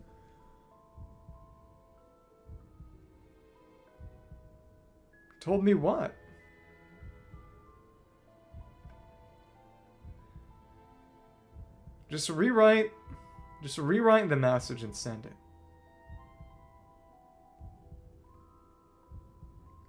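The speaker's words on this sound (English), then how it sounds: "You can hear the heart beating in the background" A slow, low heartbeat pulses steadily in the background of the video game Genshin Impact, faint and rhythmic, while a voice talks over it in a few short bursts.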